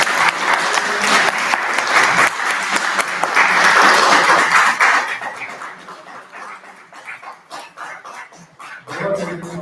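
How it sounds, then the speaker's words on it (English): An audience gives loud, sustained applause at the close of the Mega Drive EV Challenge 2025. It thins into scattered claps midway, then swells again at the end. "A huge round of applause to everyone who has been here and activated."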